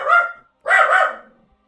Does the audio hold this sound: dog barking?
yes